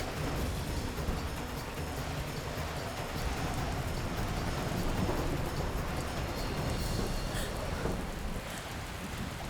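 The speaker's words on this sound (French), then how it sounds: "il pleut des cordes et la tempête fait rage" Heavy rain pours steadily and densely throughout in a raging storm, a constant close wash of noise with no talking, with a low rumble of thunder beneath.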